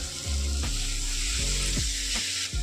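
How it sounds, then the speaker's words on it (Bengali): Spices and tomato sauté in oil in a pan with a loud, close sizzle, broken by several spatula scrapes and stirs at a steady pace. "গ্যাসটাকে কমিয়ে দিয়ে আমি কষিয়ে নিলাম।"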